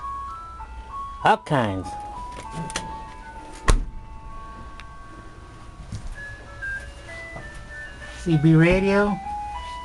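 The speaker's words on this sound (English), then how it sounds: "Nice little music box. Kinds of songs." An ice cream truck's music box in Salinas, California chimes bright, sustained tinkling melody notes at moderate volume while someone talks nearby, with a few thumps in between.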